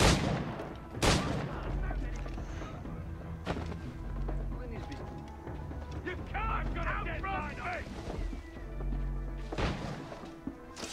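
Gunfire in the pirate video game Assassin's Creed 4: Black Flag during an attack on Nassau, with several loud booming shots spread across a busy battle soundscape and a voice talking in between.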